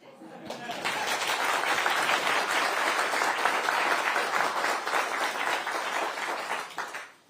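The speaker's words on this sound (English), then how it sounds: "I was waiting for the applause to come down there" Sustained audience applause at a Liberal Democrat manifesto launch in north London, a dense wash of clapping that swells quickly, holds steady for several seconds with a few voices mixed in, then fades out at the end.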